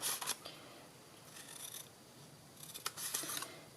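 Scissors snip through paper along score lines while a self-closing paper treat box is being made, giving short bursts of crisp cuts with brief pauses between, close and fairly quiet with no talking.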